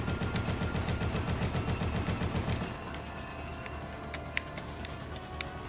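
Rapid automatic gunfire rattles in Dead Rising, a loud close burst of evenly spaced shots lasting a few seconds before breaking off into a lower rumble with a couple of sharp isolated cracks.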